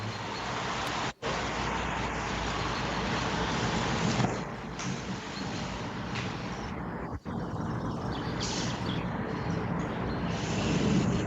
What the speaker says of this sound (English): So that was the sound of the rain.